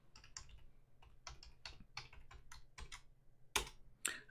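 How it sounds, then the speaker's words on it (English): A password is tapped out on a computer keyboard while logging a Windows 11 computer on to a domain: quick, uneven bursts of close keystrokes, ending with two sharper, louder presses. "So I'm just going to enter the password"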